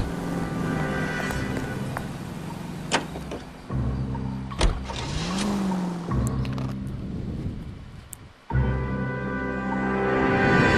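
A car driving in L.A. Noire, 1940s Los Angeles: a steady engine drone that drops and returns through gear changes and pauses, with a few sharp clicks and knocks, no voices.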